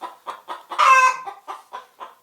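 A chicken clucks steadily and nearby in a regular rhythmic series, breaking into one longer, louder squawk partway through before returning to the short repeated clucks.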